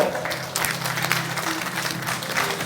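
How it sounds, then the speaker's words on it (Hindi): An audience at a corporate awards ceremony for a gas distributor applauds loudly and continuously, a thick crowd of clapping hands, with faint amplified sound in the background. "आपकी जोरदार तालियों के बीच"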